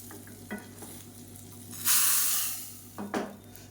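Hot tempering of mustard seeds, urad dal, cumin, dried red chillies, asafoetida and curry leaves poured into bottle gourd kootu, a sudden loud hiss bursting mid-clip between light spoon clinks and stirring.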